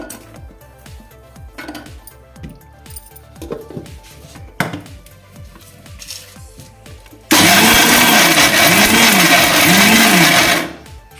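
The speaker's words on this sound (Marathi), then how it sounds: "आता आपण काजू वाटून घेऊया मिक्सरमध्ये जाडसरच वाटायचं" An electric mixer grinder coarsely grinds cashews for methi laddoos, first in short rattling pulses and then in a loud, steady whirring run of a few seconds before it stops.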